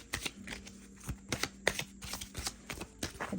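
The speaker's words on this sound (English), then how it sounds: "And I'm sure it overhand shuffles nicely as well." An oracle deck with good-quality cardstock being overhand shuffled, a brisk series of soft papery riffles and slaps close up, repeating in an uneven rhythm with no talking.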